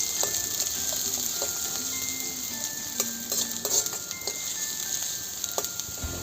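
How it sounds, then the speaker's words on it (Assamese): Onions fry in hot refined oil in a kadai, giving a soft, steady sizzle with scattered clinks and scrapes of a spoon stirring, fairly quiet and close. "পিঁয়াজখিনি মই অকণমান ৰঙচুৱাকৈ ভাজি ল'ম।"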